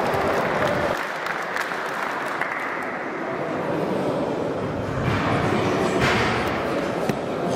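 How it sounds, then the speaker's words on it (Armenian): Applause from a crowd welcoming powerlifting athletes at the opening of an international championship in Armenia, a dense sustained clapping close by for several seconds. "Ծափահարությունը մեր մարզիկներին"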